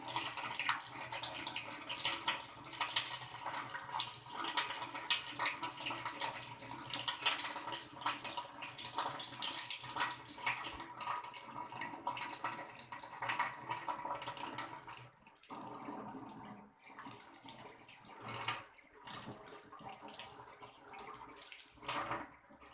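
Tap water runs steadily into a sink during handwashing with soap, a continuous hissing splash for most of the stretch, then broken and uneven toward the end as hands move under the stream.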